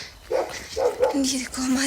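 A village dog barks repeatedly nearby, several yelping barks in quick succession, mixed with a person talking over them outdoors.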